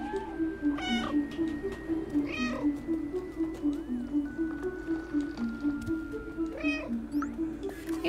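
Several meows from a cat, fairly close, sounding over a steady low rhythmic pulsing hum with faint clicks.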